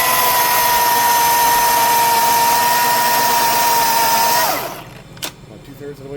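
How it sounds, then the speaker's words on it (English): A chainsaw whines at a steady high pitch while cutting through a tree limb during trimming work, loud and close, then winds down and falls quiet with a few faint clicks at the end. "Put the brake on the chainsaw."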